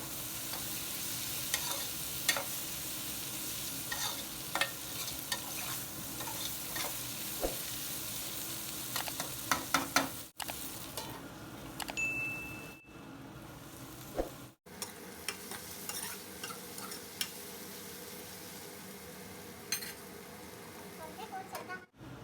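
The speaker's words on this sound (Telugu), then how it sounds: "ఒక రెండు నిమిషాల పాటు సిమ్లో మూత పెట్టి మగ్గనిద్దాము ఇలా మధ్య మధ్యలో కలుపుకుంటూ" Okra and tomato curry simmering under a lid on low heat and stirred now and then: a continuous close sizzle and bubble with scattered spoon scrapes and a few abrupt breaks.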